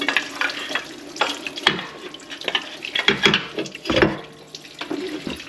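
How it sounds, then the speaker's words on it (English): Coolant dripping and splashing from the engine of a 2007-2013 Acura MDX after water pump removal, an uneven run of close, wet patters and trickles with no talking. "Dripping coolant."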